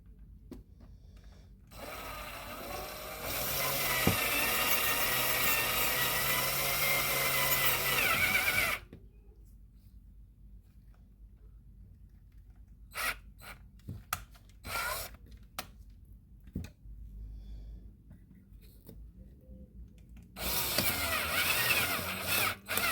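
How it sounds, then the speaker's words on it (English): Power drill drilling into material in two long bursts, a steady whining buzz running several seconds, then quiet handling clicks and taps before the drill spins up again near the end. "now I'm going to drill this"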